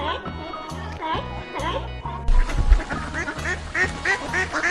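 Muscovy duck quacking in a repeated series of short, loud calls close by, with a second bird or flock chiming in during the latter half, over a busy farmyard background.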